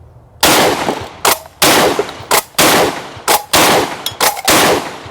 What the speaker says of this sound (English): All right, so we fired 125 shots.